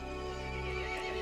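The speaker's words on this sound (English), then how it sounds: "The horse grew angry and summoned the other monsters." A horse neighs in the video game Resident Evil Village, one close, loud whinny held for just over a second over a dense, steady game-audio background.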